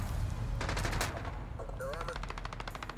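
Rapid, loud firing of the 725 shotgun in Call of Duty Modern Warfare, a tight cluster of blasts early on, then a second volley of repeated shots after a brief gap.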